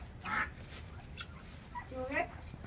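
A duck gives a few short, nasal quacks at close range beside a backyard chicken coop, two bursts spaced apart over low background noise, with people talking nearby.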